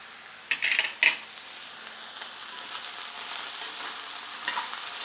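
Country chicken frying and being stirred in a pan, with a few louder scraping stirs early on, then a steady, moderately close sizzle.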